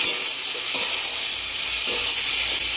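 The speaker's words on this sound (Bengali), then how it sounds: "এবারে পেঁয়াজ আদা রসুন যে পেস্টটা করা আছে সেটা দিয়ে দিলাম। একটু ভালো করে নাড়িয়ে নিতে হবে।" An onion, ginger and garlic paste fries with jackfruit in hot oil, giving a steady, loud, close sizzle with faint scraping stirs now and then and no voices.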